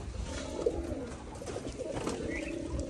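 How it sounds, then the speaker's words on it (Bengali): Several pigeons in a backyard loft coo together in low, throaty rolling calls that swell and fade, steady and close over a muffled, busy background. "তো পায়রাগুলো এদিকে সব ছাড়া আছে।"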